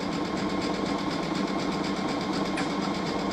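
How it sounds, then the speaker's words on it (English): A sewing machine stitching an Aurora Borealis pillowcase runs in a continuous, even, close whir with a rapid needle chatter and no talking. "I'll tell you a funny story while I sew the rest of this, the last line of this thing"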